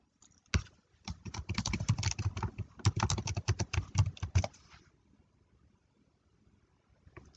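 Password typed on a computer keyboard: a quick run of close, crisp key taps for about four seconds, then quiet, with no talking.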